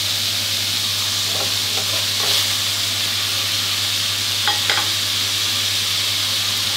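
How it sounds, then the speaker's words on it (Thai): Pork sizzles loudly as it is stir-fried in a pan over medium-high heat, a constant hiss broken by a few light spatula scrapes and taps. "ผัดให้เนื้อหมูเริ่มที่สุกขึ้นมาก่อนนะครับ"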